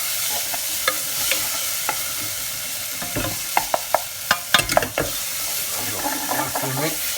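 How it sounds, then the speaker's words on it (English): Mung dal frying in a pan with coriander powder gets stirred with a utensil. Steady sizzle sits underneath a scattering of sharp scrapes and taps, close and alone, with no talk. "1 teaspoon coriander powder. Mix it in, just let it cook a little bit."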